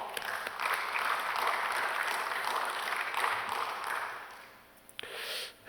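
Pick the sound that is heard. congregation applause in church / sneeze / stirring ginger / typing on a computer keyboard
congregation applause in church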